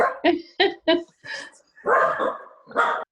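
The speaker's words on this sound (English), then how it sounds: "Dogs had something to say." Several dogs bark in a quick series of sharp, close barks, with a few yips. The barks come in bursts with short gaps, and some run together into a longer, rougher outburst near the end.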